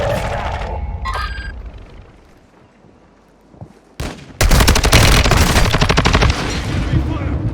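Bursts of automatic gunfire in the Call of Duty Warzone 2.0 video game, with scattered shots and clicks early, a lull, then a sudden loud, sustained fusillade of rapid rounds close by.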